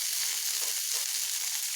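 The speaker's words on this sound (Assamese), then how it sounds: "আৰু তাৰপিছত ইয়াক ভালদৰে লৰাই আমি 4-5 মিনিটমানৰ কাৰণে এনেদৰে ভাজি ল'ম।" Sliced okra (bhindi) frying in cooking oil, a steady close sizzling hiss that stays even throughout with no talk.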